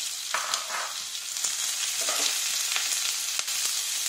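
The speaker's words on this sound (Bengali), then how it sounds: "পেঁয়াজটা দিয়ে দিলাম," Onion frying in a pan for a pointed gourd mash, a steady close sizzle with scattered crackles and a few stirring scrapes throughout.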